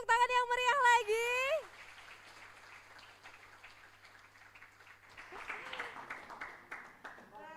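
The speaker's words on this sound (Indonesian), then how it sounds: "boleh beri tepuk tangan yang meriah lagi" Applause from a school audience at an interactive disaster-preparedness session, a burst of clapping following a speaking voice, moderately loud and fading, with voices and a short musical sting near the end.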